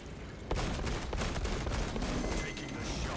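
Dense, continuous automatic gunfire rattles through a Space Marine 2 battle against a Hive Tyrant, loud and sustained after a brief lead-in.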